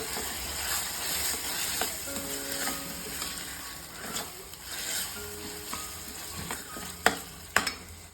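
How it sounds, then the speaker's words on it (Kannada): A frying brinjal and tomato mixture is stirred in a pan, with a steady sizzle throughout and occasional scraping clicks of the spoon against the pan, near and continuous with no talking. "ಇವಾಗ ಇದನ್ನ ಚೆನ್ನಾಗಿ ಮಿಕ್ಸ್ ಮಾಡೋಣ"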